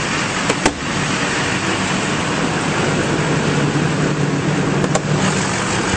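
A 2004 GMC Sierra 3500 crew cab dually with a 6.6L diesel engine runs steadily, a dense, even rumble heard up close, with a couple of brief clicks over the drone.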